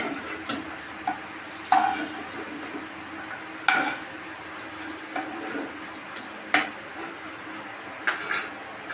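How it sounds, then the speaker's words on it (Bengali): A bay leaf is tempered in hot oil left from frying prawns, giving a low steady sizzle broken by a few sharp clinks and scrapes of a utensil against the pan, close by with no speech. "এবার ওই তেলের তেজপাতাটা ফোড়ন দিয়ে দিলাম"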